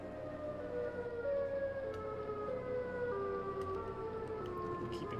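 A long, wailing horror-game siren sounds steadily throughout, a dense droning tone with slowly sliding pitches, moderately loud and without speech, from the Siren Head creature.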